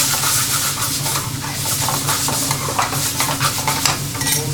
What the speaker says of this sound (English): So this is the mushroom bhaji we're going to do.